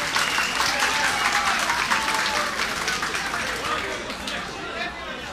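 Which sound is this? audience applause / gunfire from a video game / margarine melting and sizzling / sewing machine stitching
audience applause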